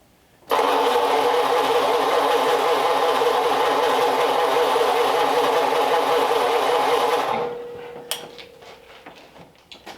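The hopped-up flathead engine in a 1939 Mercury Coupe bursts into a loud, steady churning roar. It holds for about seven seconds, then winds down and dies, leaving a few faint clicks and knocks.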